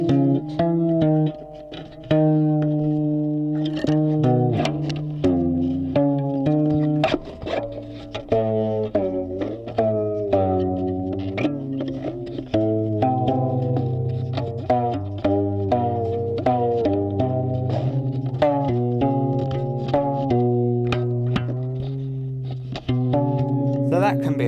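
A homemade stringed noise box played steadily, twangy plucked tones shifting pitch in stepped changes as saddles are moved, with scraping, clicking attacks throughout.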